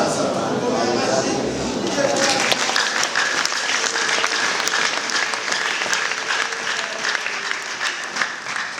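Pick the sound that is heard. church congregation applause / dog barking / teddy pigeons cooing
church congregation applause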